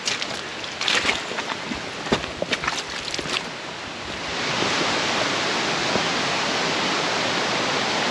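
A small waterfall on a hiking trail gives off a steady broadband rush that grows louder and fuller partway through, preceded by scattered rustling and footsteps.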